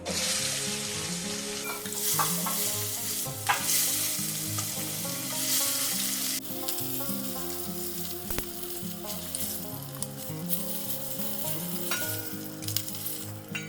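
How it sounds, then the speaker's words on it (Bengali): Bhola fish frying in hot mustard oil with turmeric and salt, a loud steady sizzle running continuously with crackles and pops throughout, no voices. "এই মাছটা তেল সর্ষের তেলে রান্না করলে খুব ভালো লাগে খেতে তেলের মধ্যে দিয়ে দিচ্ছি"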